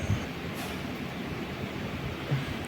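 A diesel locomotive train passes at night with a low continuous rumble and rolling rail noise, fairly faint and steady, with a couple of slightly louder thumps.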